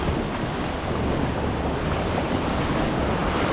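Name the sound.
ocean surf waves breaking on the beach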